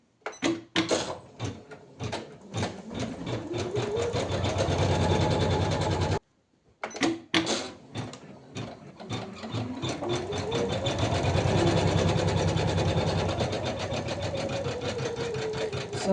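An Usha 550E embroidery machine stitches a design onto net fabric, its motor whirring loudly and steadily with rapid needle chatter, stopping briefly midway before starting up again and running on.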